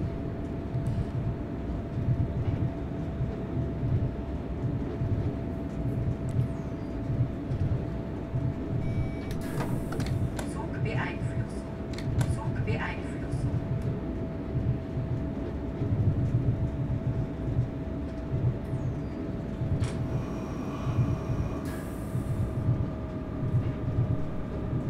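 An S-Bahn train runs on the Südbahn from Wien Meidling to Wiener Neustadt in Train Simulator 2018, with a steady rumble of rolling wheels and motor hum. A steady whine and a few brief clanks and electronic tones sound over it, and no one speaks.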